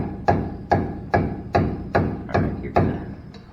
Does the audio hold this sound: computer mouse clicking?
no